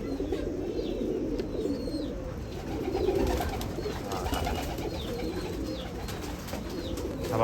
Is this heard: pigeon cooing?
yes